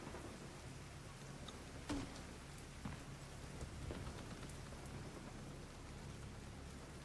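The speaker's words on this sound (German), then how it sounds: "Da hört es jetzt schon wieder hageln" Hail pattering steadily in Division 2, a dense, even patter of ice on surfaces with a couple of sharper hits, heard alone at moderate level with no talk.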